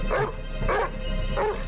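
Dog barking in a scene from the TV show Person of Interest, three loud deep barks spaced roughly evenly over under two seconds, close and dominant.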